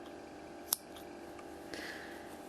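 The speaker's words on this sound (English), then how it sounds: "grab my scissors, pull tight, snip it off close as you can" A single sharp scissors snip close by as crochet yarn is cut off near the stitches of a small crocheted pumpkin, followed by faint rustling of the yarn in an otherwise quiet room.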